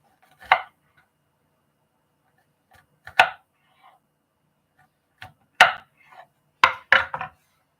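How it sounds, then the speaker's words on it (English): A knife chops an onion on a cutting board in about five sharp, separate knocks with long silent gaps, the last two coming close together. "I'm going to cut the onion pretty finely"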